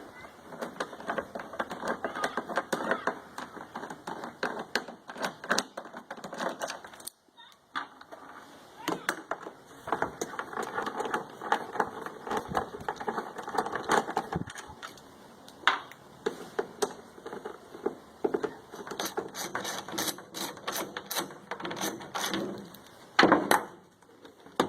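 Screws come out of the cover of a WEN 2500W inverter generator with a long, irregular run of small close clicks, ratcheting ticks and light metal taps, with no talking.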